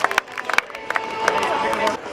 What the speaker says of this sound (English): Give him a big round of applause, ladies and gentlemen, for Ryan Spur Reed here this afternoon